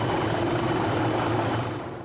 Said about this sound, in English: within moments, the helicopter lands